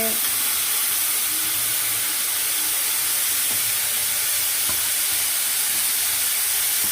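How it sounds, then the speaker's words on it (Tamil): Potatoes, beans, carrots and cabbage sauté in a pan with a steady, close sizzling hiss and occasional faint stirring clicks, continuous throughout with no speech. "கொஞ்சம் வதக்கிக்கோங்க"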